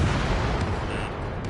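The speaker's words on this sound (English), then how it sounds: "missile away" A missile launches from a fighter jet in the Ace Combat 7 flight game: one loud, dense, roaring whoosh that fills the short moment without a break.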